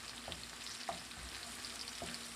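Ingredients for pansit bihon guisado, including fishball, sauté in a pan with a steady faint sizzle and occasional stirring clinks and scrapes, no voices.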